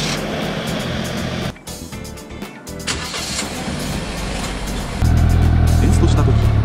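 A car engine cranks and catches, settling into a loud, steady idle rumble, with a brief dip partway through and a heavier, louder running tone from about five seconds on, all without speech.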